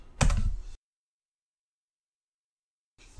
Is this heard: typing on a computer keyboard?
yes